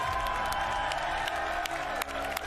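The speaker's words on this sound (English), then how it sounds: "Can we get a round of applause for Stig, everyone?" Audience applause at a gaming showcase event, faint crowd clapping and cheering heard distantly and continuously for a couple of seconds.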